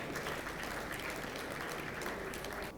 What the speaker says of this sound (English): Please, a round of applause for them as they come